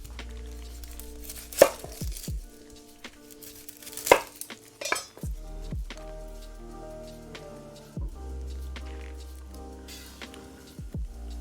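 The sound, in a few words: chopping an onion with a knife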